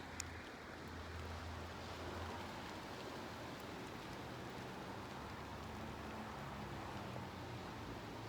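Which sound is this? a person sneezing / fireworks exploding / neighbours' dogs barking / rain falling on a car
rain falling on a car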